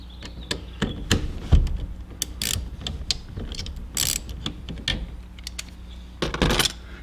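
A wrench ratchets on the 7/8 nut holding the steering wheel of a 1970 Nova, giving bursts of quick metallic clicks with pauses and clanks in between, heard up close with no talking.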